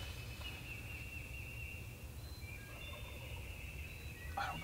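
Distant birds call from a woodland, faint gobbling and calls over a low steady hum of outdoor ambience.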